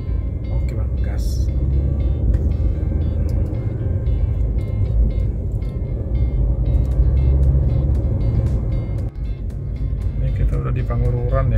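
Inside a white Toyota Avanza G manual car on the road, a steady loud engine and road drone runs throughout while people talk in the cabin.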